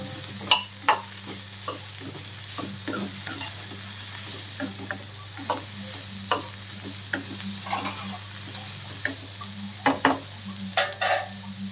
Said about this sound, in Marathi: आपले हे जे कंटुले आहेत ते मी त्यामध्ये ॲड केली आणि त्याला मस्त असं त्या तेलामध्ये छान असं फ्राय करून घ्यायचं